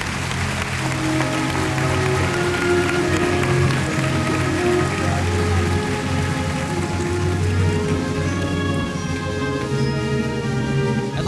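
Audience applause at a graduation ceremony, a steady, dense wash of clapping from many hands, sustained at an even level with no breaks.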